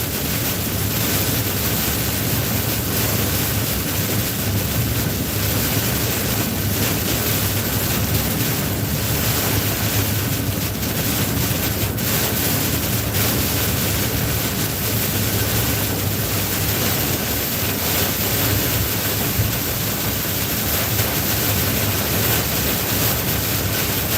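Gusty storm wind and waves surround a rolling boat in a continuous loud roar of wind buffeting and surf that stays dense and unbroken throughout, with no voices.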